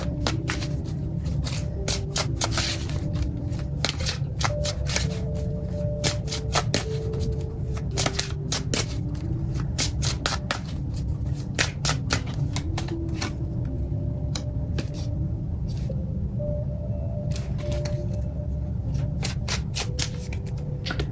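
Tarot cards shuffled and drawn from the deck, a steady stream of crisp riffling and flicking slaps, close and fairly loud with no talking.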